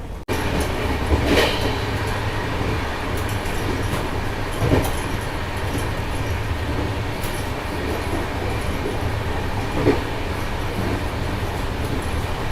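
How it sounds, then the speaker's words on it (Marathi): A passenger train runs along railway tracks between Pune and Mumbai near Lonavala, with a steady, loud rolling rumble and periodic rhythmic clacks of wheels over rail joints. "रेल्वे रुळाचा जो आवाज येतो ना गुरु तो खरंच मंत्रमुग्ध करतो"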